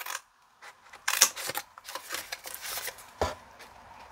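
Scissors cutting a handmade paper basket along its score lines, a quick series of close crisp snips and paper rustles, uneven in rhythm.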